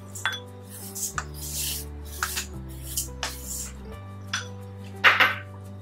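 Hot steamed glutinous rice mixed with sugar and longan meat is stirred in a bowl for a red yeast rice cake, giving soft intermittent scrapes and knocks of the utensil over a low steady hum.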